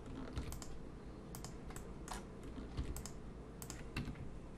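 Computer keyboard shortcuts tapped during 3D modeling in Blender, a quiet run of irregular clicky keystrokes with short pauses between bursts, close and unaccompanied.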